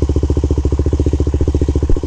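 A Honda 400ex ATV engine cranks over repeatedly on a weak battery, a fast, even chugging rhythm of starter pulses that stays loud and close without catching.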